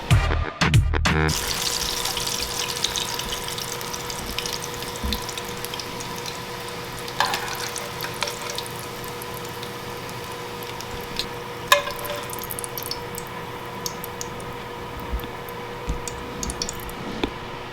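Raccoon meat frying in a pan, giving a steady, even sizzle throughout after a brief clatter at the start, with no talking.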